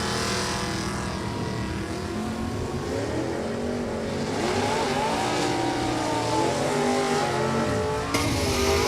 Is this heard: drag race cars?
yes